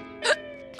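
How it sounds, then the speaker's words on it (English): A single short, loud hiccup from a cartoon boy in Dennis and Gnasher, a sharp vocal squeak alone with faint background. "these hiccups are ruining me day"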